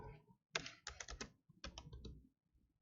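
A computer keyboard gives a few quiet clustered key clicks, faint and close, with short pauses between groups of presses.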